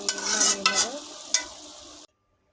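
A pan of small fish and potato curry is stirred as it sizzles, a close loud hiss with a few sharp utensil scrapes, ending abruptly in silence after two seconds.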